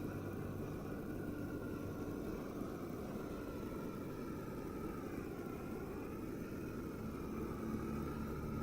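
A flamethrower in the video game Sandustry gives a steady, loud jet-engine roar that holds unbroken for several seconds, with a faint wavering tone riding above the broad rush.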